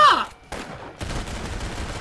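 Gunfire from the Roblox game Arsenal: a short burst of shots at the start, a brief pause, then more rapid firing under a busy, noisy game soundscape.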